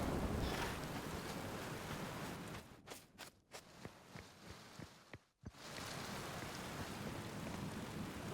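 Rain in the video game Outer Wilds, a steady hiss of downpour that drops away midway to a quieter interior with a few sharp knocks, then returns at full strength.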